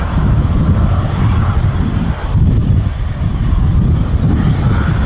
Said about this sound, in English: they're airborne, we'll see under the power of the Avro Canada Orenda 14 engine